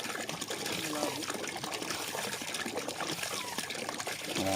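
Water gushes and trickles from a new hand pump in a steady, continuous flow, faint and close, while voices talk over it.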